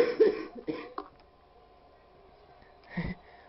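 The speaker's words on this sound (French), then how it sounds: "On peut tousser, hein, ça rien." A person gives a few short, close coughs at the start and one more cough near the end, with quiet background in between.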